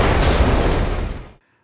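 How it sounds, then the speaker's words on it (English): Car bomb explosion from the movie RoboCop, a single loud close blast of broad rumbling noise that holds for over a second and then cuts off abruptly. "Alex Murphy gets blown up."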